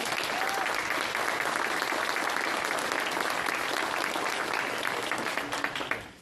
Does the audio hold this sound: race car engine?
no